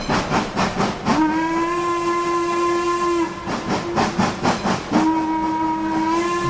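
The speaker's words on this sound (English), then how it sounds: "How cool are steam trains?" A steam train whistle used as a sound effect blows two long, loud, steady sustained blasts, each preceded by bursts of hissing steam chuffs.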